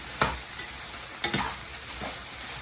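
Vegetables and soybean sizzle in a pan while a spoon stirs them in three brief scraping strokes over a soft, steady frying hiss, heard close and without speech.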